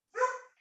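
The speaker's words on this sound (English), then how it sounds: "sorry, that's my dog." A pet dog gives one short, close bark indoors, alone and clear against a silent background.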